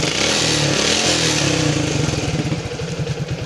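A Yamaha Jupiter MX motorcycle, repaired after white exhaust smoke and hard starting, idles loud and close with a steady, even engine putter.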